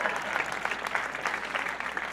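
Applause for a donor at a Big Brothers Big Sisters Big Night Out In the Wild fundraiser, a steady, moderately loud patter of many hands clapping that holds evenly throughout without voices.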